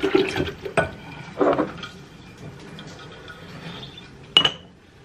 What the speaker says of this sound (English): So I'm going to get this stirred up the best I can.